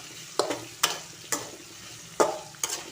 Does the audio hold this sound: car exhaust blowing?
no